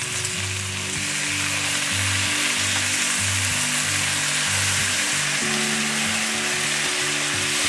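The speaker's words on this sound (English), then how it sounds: "Just bacon frying in a pan" Steady, dense sizzling of bacon frying in a pan with no added fat, a continuous crackling hiss with a low background hum throughout, no voices.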